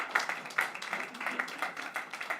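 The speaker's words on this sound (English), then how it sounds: "I think I need a big applause also to manage this" Scattered applause from a conference audience, a dense patter of many hands clapping at moderate distance, fairly soft and sustained throughout, with a faint voice mixed in.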